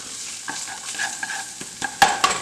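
Chopped onions, celery and carrots sizzling in a hot soup pot for beef barley soup, a close steady frying hiss broken by a few scrapes and clinks of a stirring utensil.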